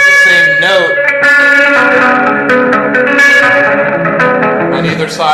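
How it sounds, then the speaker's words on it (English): A pencilina, a struck and bowed string instrument, rings through heavy distortion and echo: loud, buzzing sustained notes with bright overtones, bending pitches and sharp plucked attacks that blur into one another. "Here, I'll turn down the distortion a little."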